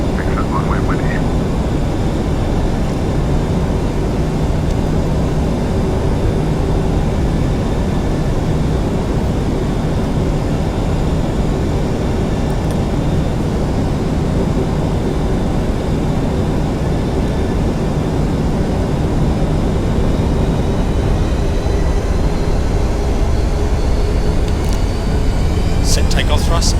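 PMDG 737 NGX jet engines in a flight simulator game, a steady, loud, broadband roar with faint tonal whine held throughout a takeoff roll, continuous from start to finish.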